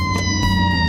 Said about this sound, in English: Oh, here comes the fire truck.